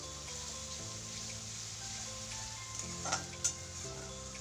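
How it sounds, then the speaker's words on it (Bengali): Grated onion is stirred into a frying spice masala for a Bengali chicken curry with potatoes. A steady close sizzle runs throughout, with a few soft spoon scrapes near the end. "গ্রেট করে রাখা পেঁয়াজটাকে দিয়েও ভালো করে নেড়েচেড়ে মশলাটাকে মিশিয়ে নিলাম।"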